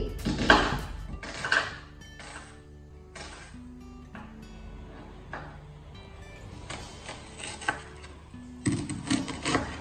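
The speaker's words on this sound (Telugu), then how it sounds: "ఉల్లిపాయలు డైస్డ్ ఆనియన్స్ అన్నమాట, స్క్వేర్ గా కట్ చేసుకోండి." Onions are diced into squares with a knife on a board, giving a series of close, crisp chopping knocks in irregular bursts with short pauses between them and no voices.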